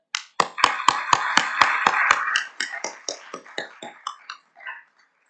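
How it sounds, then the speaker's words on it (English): Applause from a luncheon audience: a burst of sharp, evenly spaced hand claps, loud and close at first, then thinning into scattered claps that die away within five seconds. "please give yourself a round of applause"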